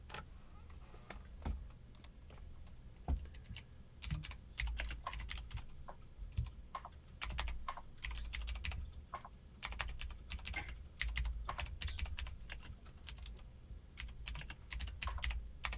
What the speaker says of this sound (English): I hear somebody's keyboard.